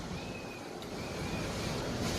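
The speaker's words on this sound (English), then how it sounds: "The windows are broken, and now water is coming through those big windows you see over there." Hurricane floodwater pours in through broken windows of a house during Hurricane Dorian, a steady rushing, surf-like wash of water with wind noise, continuous and moderately close.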